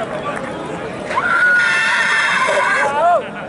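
A Marwari colt neighs at the Faridkot horse show, a loud, long, wavering whinny that rises and then trails off, close by, over a background of voices.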